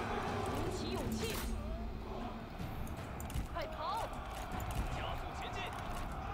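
Horse hooves clip-clop in a Total War: Three Kingdoms battle game, with rhythmic trotting beneath ambient battle noise and someone talking over it.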